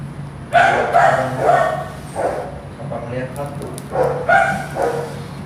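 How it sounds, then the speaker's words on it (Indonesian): A dog barks repeatedly in short bursts at night, several yaps spread across the stretch at moderate distance over a low steady hum. "Ada yang gonggong lagi, iya nih."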